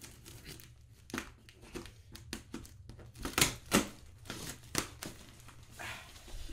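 Cardboard packaging for a softbox being opened with a knife that cuts poorly, with intermittent crinkling, tearing and scraping noises in short bursts, close up, with no talking.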